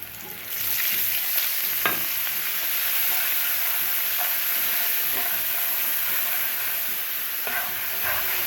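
Fish sizzling steadily in hot oil with turmeric and chili powder, a loud continuous frying hiss with a few faint clinks of a utensil, no voices.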